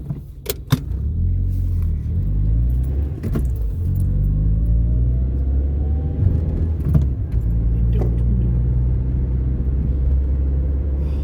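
A car drives on roads in Wales between Barry, St Athan and Rhoose, heard from inside as a loud, steady low rumble of engine and tyres. Occasional knocks and rattles come through, with a slowly rising engine tone.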